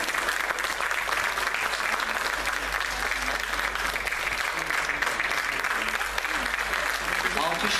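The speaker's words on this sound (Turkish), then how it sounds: "Alkışlarımız da geliyor arkadaşlarım." Steady, dense applause from a concert audience and choir fills the space at an even level throughout, a continuous wash of clapping with a murmur of voices underneath.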